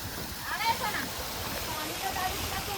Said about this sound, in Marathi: ते झऱ्याचं पाणी येतं आणि तिथे छानसं बनवलं आहे पाण्याचा टाका